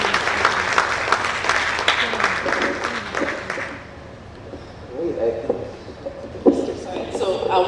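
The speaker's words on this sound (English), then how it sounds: "Please, a round of applause for the families" Conference audience at an internet freedom forum applauding for a few seconds, a dense wash of clapping that fades out and gives way to a voice speaking over light room noise.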